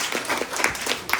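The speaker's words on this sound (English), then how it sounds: "Round of applause for our Periyar." A short burst of audience applause at a Hindu temple gathering during a Skanda Sasti festival, brief and fairly close, with clapping blended into crowd noise.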